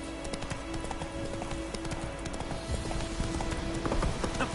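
Roach, a horse in The Witcher 3 video game, gallops with loud, rapid, steady clip-clop hoofbeats close up, over a constant game ambience.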